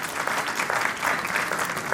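A convocation audience at IGNOU Srinagar claps steadily, a loud even wash of applause with slight swells.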